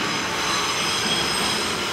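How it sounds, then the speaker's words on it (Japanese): The Okuizumo Orochi sightseeing train rumbling steadily along the tracks of a switchback mountain line near Izumo-Sakane Station, with a faint high wheel squeal, a continuous loud roll with no voices. "進行方向をもう一度反対向きに変え3段目の線路を走り 次の飯の原駅へ向けて"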